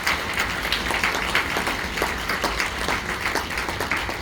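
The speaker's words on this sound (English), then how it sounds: "I'd just really like to finish with a round of applause for professional services team." Applause from a conference audience for a professional services team, steady and moderately loud throughout with dense overlapping claps and no speech.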